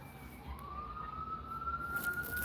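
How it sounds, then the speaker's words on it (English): An emergency vehicle siren sounds in the distance, a faint, steady wailing tone that rises in pitch as it approaches over low background rumble. "Here comes the siren."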